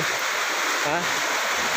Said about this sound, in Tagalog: Ito po yung tunay na falls.